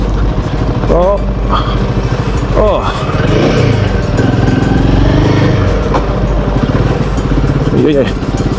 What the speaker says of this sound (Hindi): ये देखो, दिखाऊं आपको यहाँ बाइक कैसे चलते हैं।